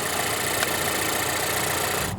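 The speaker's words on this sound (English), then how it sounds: "The car starts." A Volvo XC40's engine idles steadily after being jump-started with a portable jump starter, a close, even mid-range hum that holds constant throughout before cutting off at the very end.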